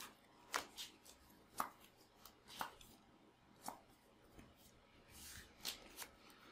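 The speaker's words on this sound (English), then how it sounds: "Yeah, we're going to shuffle." Magic: The Gathering cards being shuffled during a Legacy match, a rapid series of crisp riffling bursts, close and fairly quiet, with short pauses between each shuffle.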